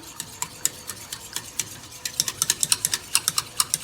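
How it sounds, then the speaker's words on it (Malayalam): Wheat flour ice cream mixture being stirred in a pot on the stove, a run of crisp spoon taps and scrapes against the vessel that quicken into a fast, regular rhythm toward the end. "ഇനി നന്നായിട്ട് ഇളക്കണം"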